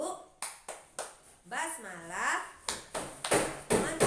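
Hand claps from children playing a wudu (ablution) clapping game, struck in short rhythmic bursts that alternate with a sung, chanting voice through the middle.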